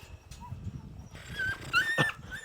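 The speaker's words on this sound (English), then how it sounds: "As you can see, or as you can hear, the other puppy's pretty upset that he can't get to us" A puppy whines nearby in thin, high-pitched whimpers that grow louder and more insistent toward the end.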